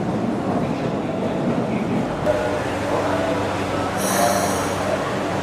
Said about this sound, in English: here's the train I'm going to take